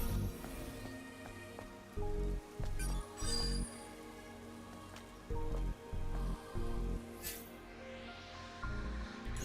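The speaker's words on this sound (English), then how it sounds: "Something is falling from the sky. A strange sensation. Rain? This must be Earth's rain." Rain patters in Stellar Blade, a soft, steady shower under repeated rhythmic thumping bursts of game sound and occasional chimes, fairly faint overall with no voices.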